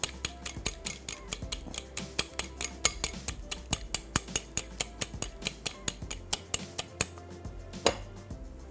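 Steady rapid clinks and taps of a spoon stirring masala ingredients with salt in a bowl, a regular rhythm of bright metallic ticks close up, without speech.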